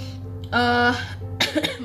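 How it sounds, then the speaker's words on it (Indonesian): A short, harsh cough bursts out twice, close to the listener, with a faint hum in the background and no talking. "sorry aku batuk."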